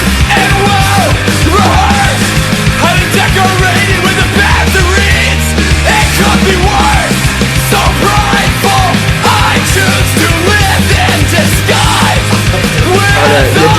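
A song plays loud and dense, with screamed vocals over driving distorted guitars and pounding drums throughout.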